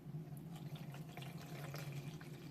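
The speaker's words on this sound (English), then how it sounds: "Fill it with a little bit of water." Water from a tap runs in a steady, continuous stream into a plastic wipes box holding cloth baby wipes, filling it with a small amount; close and even, with no talking.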